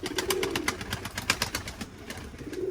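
Pigeons cooing in a loft, soft repeated coos with faint fluttering and rustling close by, quiet overall.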